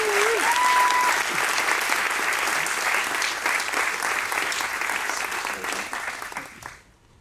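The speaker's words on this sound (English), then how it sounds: "Everybody, one last round of applause." An audience applauds at a launch event with loud, sustained clapping that holds steady before tapering off and fading out near the end; a brief whistle rises over the crowd early on.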